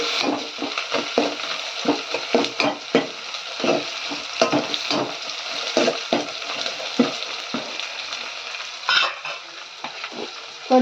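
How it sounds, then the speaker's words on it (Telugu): Cloves and black peppercorns frying in a pan for a fish curry, a bright continuous sizzle with frequent close stirring scrapes and clinks in a busy, uneven rhythm, heard alone. "వేసుకున్న తర్వాతకి కొంచెం కలుపుకోవాలి"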